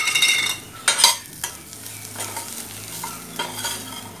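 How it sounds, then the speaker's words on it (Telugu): Bottle gourd and coconut pieces fry and get stirred in a little oil in a pan, a steady sizzle broken by a few louder scraping stirs near the start and again toward the end. "ఒక కప్పు ఆనపకాయ ముక్కలు, ఒక కప్పు కొబ్బరి ముక్కలు బాగా వేయించేసుకుని"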